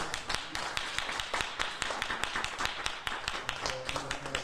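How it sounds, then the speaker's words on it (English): Press conference audience clapping in a steady run of sharp hand claps, fairly close and continuous, with a faint tonal hum entering near the end. "Can you clap it up here?"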